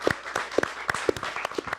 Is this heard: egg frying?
no